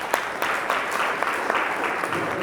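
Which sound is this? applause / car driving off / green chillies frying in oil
applause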